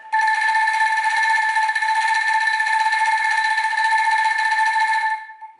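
An angklung, a bamboo shaken instrument, rattled with fast wrist movement into a sustained legato tone, a bright steady trembling pitch held for about five seconds before stopping abruptly.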